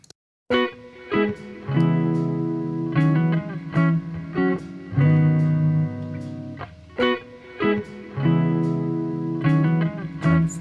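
Guitar notes and chords played through a fully wet spring reverb feeding into a stereo delay, the echoes smearing and trailing between phrases; no talking.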